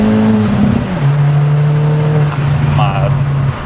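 A 370 BHP Ford Fiesta ST pulls hard in second gear, its engine droning loud and close with a steady rising tone, then easing off at the end, with talking mixed underneath.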